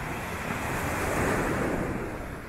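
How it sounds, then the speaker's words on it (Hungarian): Steady wind blows at a seaside beach in Poland, a broad continuous rush mixed with surf and wind buffeting the microphone, loud and constant with no talk. "Fúj a szél is egy kicsit."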